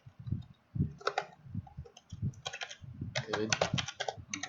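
Bursts of computer keyboard typing, with quick runs of keystrokes in a few clusters, close and clear, interleaved with someone speaking throughout.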